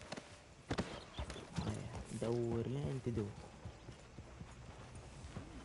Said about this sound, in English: Fine horse you got there.